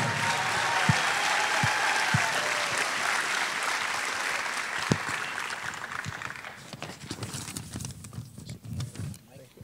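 An audience applauds at an Anaheim Union High School District event. The sustained clapping fills the room, then thins out and fades away over the final seconds.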